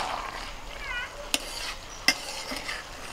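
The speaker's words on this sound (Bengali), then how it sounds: "এবার একদম হালকা করে আস্তে আস্তে একটুখানি নাড়াচাড়া করে দেবো" Rice and vegetables cook in a pot while a utensil stirs them gently, giving soft sizzling and scraping with two sharp clinks of metal against the pot.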